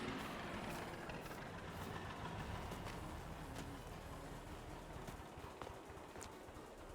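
A worn, grimy tractor's engine in a farming sim game chugs at a steady low idle, a continuous rumble that stays level for the whole stretch with light clattering on top and no talk.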